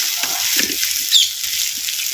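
Shallots, curry leaves and mint sautéing in oil for a Chettinad mutton dish, a continuous bright sizzle with light scattered stirring knocks, close up and without talk.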